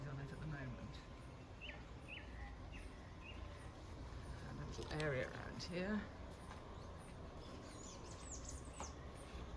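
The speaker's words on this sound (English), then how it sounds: "You can hear the birds as we come in the back." Small birds chirp and call intermittently in a pollinator garden, with short tweets scattered throughout and a brief flurry in the middle, faint beneath a person talking.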